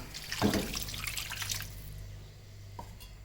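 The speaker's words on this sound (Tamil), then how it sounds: "ஒரு 1 கப் அளவுக்கு மட்டும் தண்ணி சேர்த்துக்கோங்க." A short splash of about one cup of water poured into a pan of chicken gravy, a brief gush that tapers off into quiet drips.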